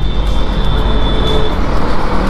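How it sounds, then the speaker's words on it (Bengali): A KTM Duke 250 motorcycle engine lugs in sixth gear during a knocking test, giving a loud, close, rumbling low drone with rushing wind and road noise. "এবারে নকিং টেস্ট করি, ইঞ্জিন নকিং টেস্ট। 6 গিয়ারে রয়েছে কিন্তু"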